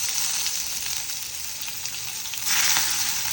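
Onions hit hot oil with cumin for jhol thukpa and give off a loud, close, steady sizzling hiss that swells sharply partway through as the frying intensifies, with no voices.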